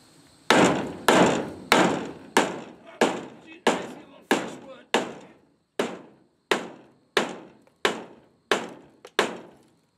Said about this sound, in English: let's see if we can knock this thing apart with a bigger hammer